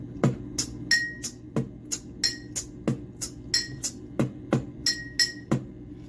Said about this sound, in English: So it could be me taking this glass and hitting my ring on it